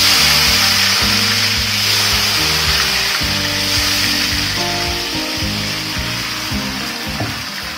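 Chopped tomatoes fry in oil in a pan while a tomato pickle is prepared, making a steady, loud, close sizzle with clattering stirring knocks throughout and no speech.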